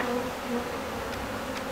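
Honey bees hum in a dense, steady buzz while a package of bees is being installed into a hive, sounding close and continuous with no voices.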